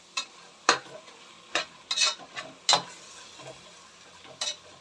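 Ground spice paste frying in oil while a spoon stirs it, with scattered close scraping clicks and short bursts of sizzle over a quiet, steady background.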